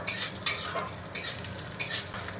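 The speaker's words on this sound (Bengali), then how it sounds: "কাঁচা লঙ্কাটা দিয়েও একটু নাড়িয়ে নেব।" Green chillies and garlic cloves frying in a pan, with four distinct scraping strokes of a spoon over a soft, steady sizzle, close and clear with no talking.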